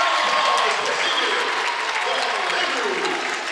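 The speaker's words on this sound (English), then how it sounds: "listen to the ovation he's going to get" A basketball crowd at a regular-season home finale for Lorraine gives a loud, sustained ovation as players Shane Smith and Rashad Berry come out. The applause and cheering stay dense and steady throughout, with an announcer's voice under the roar.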